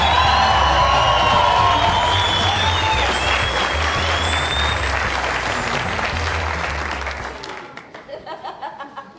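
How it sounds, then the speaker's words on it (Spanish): A live audience bursts into loud, sustained applause with cheers and whoops to welcome a joke teller, the clapping thinning out and ending in a few scattered claps near the close. "Quiero que reciba con un fuerte aplauso a don Enrique Colavisa."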